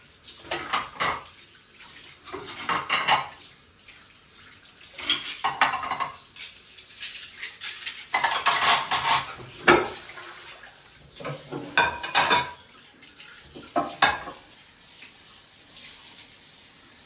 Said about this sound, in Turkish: Bugün bulaşıklarımı elimde yıkayacağım